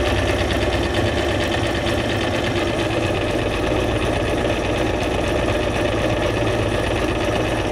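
A sewing machine stitches through paper junk journal ephemera in a continuous, loud, close-up mechanical whir with rapid needle chatter and no pauses.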